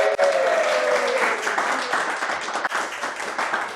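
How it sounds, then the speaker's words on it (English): An audience gathered behind the camera claps and applauds steadily for a few seconds, a dense, continuous patter of many hands with a faint voice over it. "Audience members, would you like to give a round of applause"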